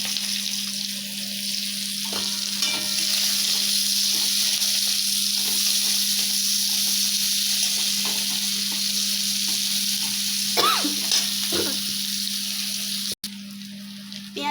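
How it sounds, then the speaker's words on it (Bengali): Nigella seeds and onion frying in hot oil for a home-style pui shaak and prawn chorchori give a steady, close sizzle throughout, with a few brief stirring scrapes and no talk. "যখন পেঁয়াজ আর কালো জিরেটা একটু ভাজা হয়ে যাবে, এরপর আমি পেঁয়াজটা ফোড়ন দিয়ে দেবো।"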